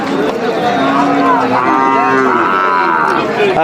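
A cow at a cattle market in Comilla gives a long, loud, drawn-out moo close by, standing out clearly above faint background noise.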